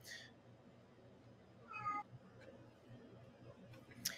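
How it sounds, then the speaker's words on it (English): A cat meows a couple of times, short and fairly faint, against a quiet room background with soft noise. "my cat is talking out here, so that's what you're hearing in the background"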